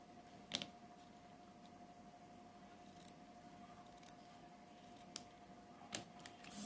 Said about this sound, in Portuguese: Aqui eu vou só cortar as pontas.